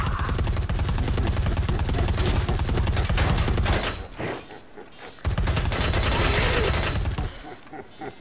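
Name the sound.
explosion and gunfire in the video game Predator Hunting Grounds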